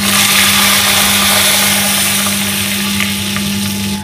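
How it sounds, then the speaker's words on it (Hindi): Mustard seeds, cumin and asafoetida crackling in hot oil give a loud, continuous sizzle over a steady tonal hum, with a few sharper pops toward the end and no speech. "अब इसमें डालेंगे राई, मस्टर्ड सीड्स, क्यूमिन, ज़ीरा और हींग। जैसे ये क्रैकल होने लगेगा"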